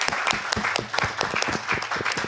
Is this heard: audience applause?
yes